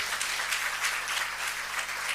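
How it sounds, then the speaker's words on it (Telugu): A church congregation claps and applauds in a steady, dense wash of hand claps, fairly loud and continuous for the whole short stretch, with no voices above it. "నాతో ఏకీభవిస్తే చప్పట్లు కొట్టి దేవుని స్తుతించాను."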